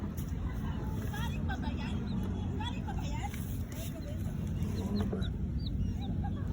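Chickens clucking softly nearby amid a low rumbling background hum, with people speaking now and then.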